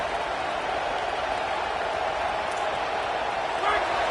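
Stadium crowd roar from an NCAA college football video game, a steady loud wash of cheering and noise that holds through the whole stretch, with a slight swell near the end.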